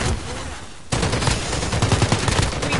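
Rapid bursts of video game gunfire crack loudly and continuously after a brief quieter lead-in, the shots densely packed like automatic weapons fire with a few heavier reports mixed in.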